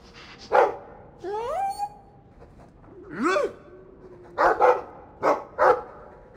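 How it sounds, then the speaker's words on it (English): Dog barks and yips from Dragon Age 2, a video game, come in short bursts along with whimpering, rising whine-like calls, loud and close over a quiet in-game background. "I like the doggy."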